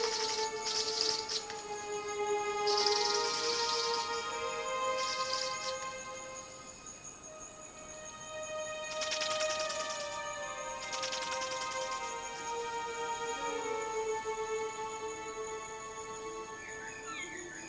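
Ribbon-tailed astrapia birds of paradise calling during a noisy courtship dance in misty mountain forest, with repeated harsh bursts and tonal calls over a steady buzzing insect chorus, moderately near.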